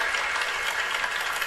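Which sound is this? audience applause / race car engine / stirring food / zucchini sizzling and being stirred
audience applause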